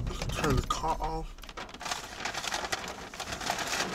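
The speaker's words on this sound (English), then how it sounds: "Y'all hear that rain?" Rain patters steadily on a stopped car with its engine switched off, a dense broadband hiss that continues after a voice speaks close by at the start.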